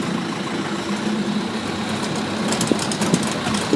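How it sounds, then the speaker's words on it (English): A bus engine drones steadily from inside the moving vehicle on a trip around Mysore, a constant loud rumble with a few faint clicks and knocks near the end and no talking. "This bus is making so much noise."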